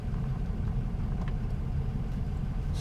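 A truck pulling in nearby at a riverside campsite, its engine rumbling low and steady close by with no other sounds standing out.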